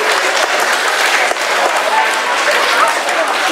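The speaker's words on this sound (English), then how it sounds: "Give yourselves a clap." A room of children claps together in steady, dense applause, loud and close throughout with a few adult voices murmuring underneath.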